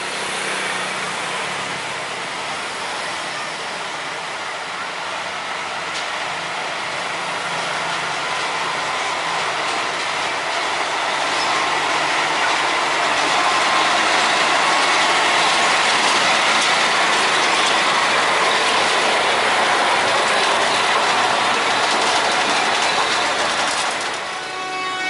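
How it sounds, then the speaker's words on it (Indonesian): A sugar cane train locomotive of PG Semboro rumbles past village houses at night, its wheels clattering and mechanisms rattling in a loud, continuous roar that swells as it passes close by. "lokomotif melanjutkan perjalanan dan lewat persis di depan"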